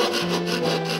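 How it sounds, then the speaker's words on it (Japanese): A hand saw cuts through a wooden kamaboko board with steady, close rubbing strokes that repeat in a slow back-and-forth rhythm, loud and alone. "ノコギリを立てるようにして、ゆっくりと引きます"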